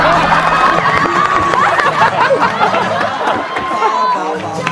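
An audience in a Korean TV studio breaks into loud murmuring chatter, many overlapping voices with some shouts and rising bursts, a dense hubbub that fades slightly toward the end.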